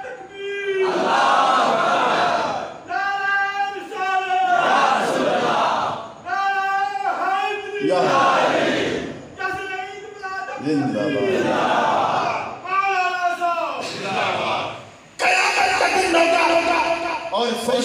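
A large crowd at a Mehfil-e-Milad religious gathering chants loudly in unison in answer to the Takbeer slogan, with a lead voice calling and many voices roaring back in repeated, rhythmic bursts.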